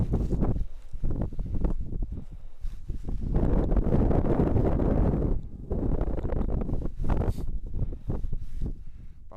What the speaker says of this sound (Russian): Погодка, конечно, сегодня не особо радует. Метель, ветер.